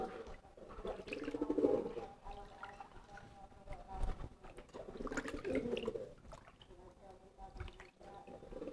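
Female pigeon cooing in a loft, two soft low throaty coo phrases a few seconds apart, faint and somewhat distant amid light background noise.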